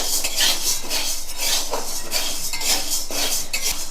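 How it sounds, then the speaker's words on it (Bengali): A spatula repeatedly scrapes and clinks against a wok as dry sago pearls are stirred and heated, with brisk rhythmic metallic scraping and rattling up close and no voices. "আমি সাবগুনো নাড়াচাড়া করছি"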